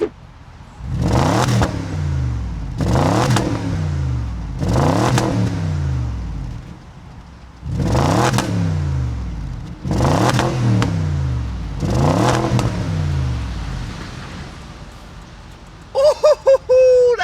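A 4.4 litre naturally aspirated V8 from a 2004 car revs hard six times in a steady rhythm, each blip climbing and falling away, loud and close, with a short burst of other mechanical noise at the very end.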